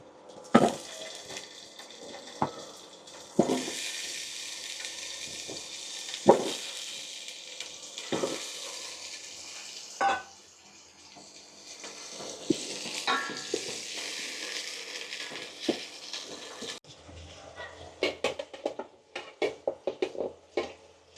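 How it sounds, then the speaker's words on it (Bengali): Potatoes fry in hot mustard oil with a continuous hiss and sizzle, broken by scattered clinks and scrapes of a utensil against the pan, ending in a quick flurry of stirring taps. "আমি প্রথমে আলুগুলো ভাজি করে নেব"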